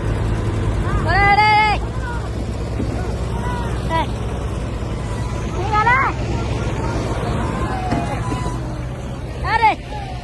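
Three tractors hauling a heavy sugarcane load, their engines giving a steady low rumble throughout, with excited voices shouting and talking over the engine noise outdoors.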